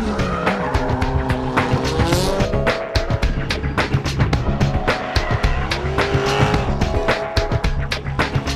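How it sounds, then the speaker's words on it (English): Drift race cars at Road Atlanta during a Drift Atlanta event, engines roaring loud and close with repeated sharp tire squeals and skids running continuously throughout. "bringing you to the exciting world of drift racing"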